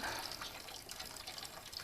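Water drains steadily from the coolant reservoir of a Dominar 400 motorcycle during a coolant flush, a faint continuous trickling and splashing with no talk over it.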